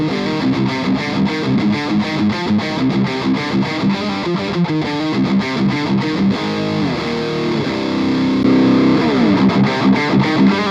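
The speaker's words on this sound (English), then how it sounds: "Now let's hear it through the high gain channel." ENGL Fireball high-gain channel with boost on, an electric guitar chugs dense, heavily distorted rhythm chords, loud and continuous, with a sustained ringing note near the end.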